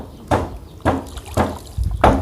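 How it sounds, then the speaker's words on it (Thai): Water is poured out of a container at a home pond during a fishing outing, coming in four distinct splashy gushes at roughly even intervals, close and fairly loud. "เทน้ำออกก่อนนะจะได้เห็นนะร"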